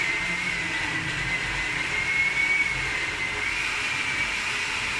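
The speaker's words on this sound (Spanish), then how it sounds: "Vamos a licuar." A blender whirs steadily and loudly for several seconds as it purées green mole sauce. The motor drone stays even and continuous, with no one talking over it.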